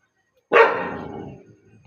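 A single loud, close dog bark bursts out and trails off over about a second, with no talking alongside it.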